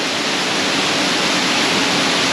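Hazel Falls in Shenandoah National Park, swollen after 5 inches of rain, pours into a pool with a loud, unbroken roaring hiss, close and alone.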